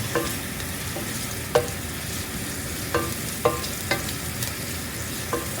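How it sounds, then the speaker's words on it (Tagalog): Ginger and garlic sautéing in a pan, a loud, constant close sizzle broken by several sharp clinks and scrapes as a utensil stirs them, with no voices. "inigisa po ako ng luya na may bawang. Yan. Halu-haluin muna natin."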